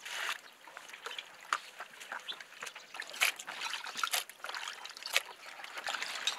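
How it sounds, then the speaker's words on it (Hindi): Mahua flowers are rinsed in clean water, with close, continuous trickling, splashing and sloshing in irregular bursts. "अब इसे हम साफ पानी से धुल के साफ करेंगे"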